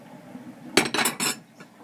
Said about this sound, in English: Gonna finally wash these dishes.